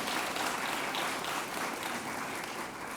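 Audience applause at the UM-Dearborn 2025 Alumni Difference Makers awards ceremony: dense, steady clapping from a large crowd that fills the whole stretch without a break.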